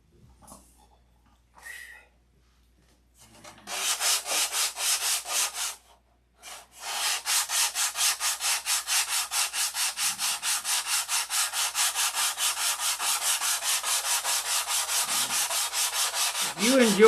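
Steady back-and-forth sanding of wood, close and loud, starting after a few quiet seconds with a brief pause, then rubbing rhythmically without talk.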